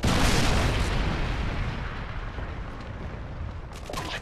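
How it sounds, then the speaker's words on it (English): A Predator missile strike on the Afghan map in a Call of Duty domination match bursts as a heavy, booming explosion. The roar slowly fades over a few seconds. "Friendly Predator missile inbound."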